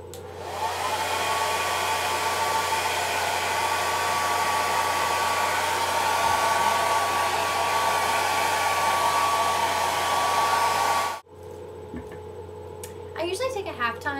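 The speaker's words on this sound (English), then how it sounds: "The cheapest blow dryer that you can buy." A cheap Salon series hair dryer blows with a steady, loud whooshing hum and a high whine for several seconds, then cuts off abruptly, leaving faint sounds and a brief voice.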